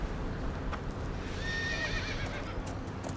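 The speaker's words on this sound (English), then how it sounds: "Is that a horse?" A horse whinnies once midway through, a quavering neigh over continuous low rumbling noise with faint clip-clop sounds.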